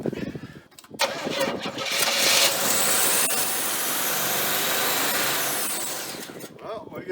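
A G-Body Chevrolet Monte Carlo engine cranks and fires, then roars into a loud, steady run that gradually settles back before cutting off, heard close up.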